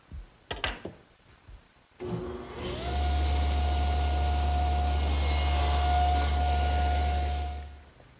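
A power saw set up to cut tenons on the bottoms of wooden stakes for a child's wagon starts after a few sharp clicks, spins up, and runs with a loud, steady whine before winding down.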